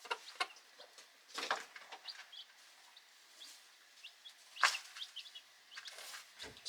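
Several chickens cluck around a food dish, with scattered short calls and a few sharper squawks at irregular intervals, fairly close and moderately loud, no talking.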